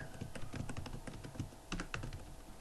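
Rapid typing on a computer keyboard, close and crisp, with irregular clusters of key clicks running continuously.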